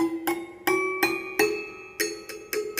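Hammer of a J Chien PianoLodeon under restoration striking its metal bars off the sweet spot: about eight bright, ringing glassy strikes at an uneven pace, each decaying quickly, close and clear with no speech.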